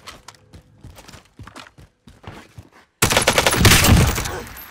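Gunfire in Call of Duty Warzone: scattered footsteps and rustling give way to a sudden, loud, sustained burst of rapid shots close by.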